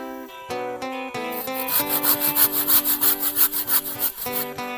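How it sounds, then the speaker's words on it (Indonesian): A dull hand saw cutting a piece of wood for a traditional wooden stilt, rhythmic back-and-forth rasping strokes, loud and close, speeding into a steady fast series of strokes. "sayang sekali gergaji yang kita gunakan tidak terlalu tajam"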